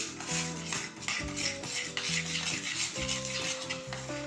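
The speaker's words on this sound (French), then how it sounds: "on mélange bien pour obtenir une bonne pâte, bien homogène" Almond cream batter for a galette des rois being stirred in a bowl, a close scraping and mixing sound with a steady rhythm, heard alone under faint tonal background music.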